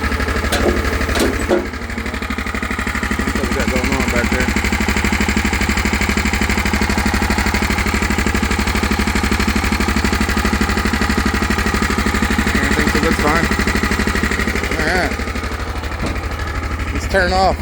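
An old 550 Mule off-road utility vehicle idles at an off-road park after about ten minutes of trail riding, its engine a loud, steady, close-up throb running almost unbroken, with a few sharp knocks near the start.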